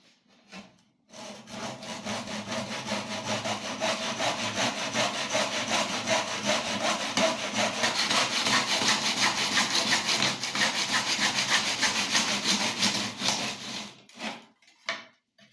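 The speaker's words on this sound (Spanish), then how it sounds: "colocamos el serrucho en estas dos ranuras y empezamos a cortar" A handsaw cuts through wood held in two guide slots, a steady back-and-forth rasping that runs loud and close for about thirteen seconds before stopping, with no talk over it.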